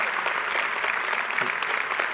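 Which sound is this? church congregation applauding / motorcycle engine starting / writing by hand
church congregation applauding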